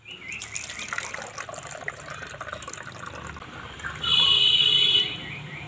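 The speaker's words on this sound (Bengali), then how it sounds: "এখানে একটা স্প্রাইটের বোতল নিয়েছি, এবার ঢেলে নেব।" Homemade Sprite with soda in it, poured from a cup into a Sprite bottle: a steady liquid trickle that rises into a louder, brighter gurgle as the bottle fills, then stops abruptly, with no talking.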